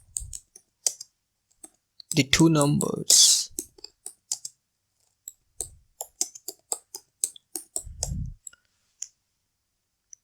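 Computer keyboard keys clicking in short scattered bursts while writing a simple Java program, close and fairly quiet, with someone talking over and between the keystrokes.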